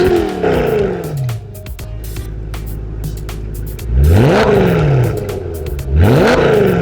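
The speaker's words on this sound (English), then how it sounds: "Now I'm gonna go ahead and rev it up for you guys." A BMW M3 fitted with an aftermarket exhaust, idling on a residential street between two loud, rising revs that roar up and fall back, close and powerful, with a rumbling idle holding between them.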